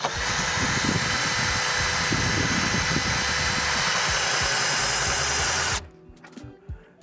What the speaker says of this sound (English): Make sure you use a drill and not an impact.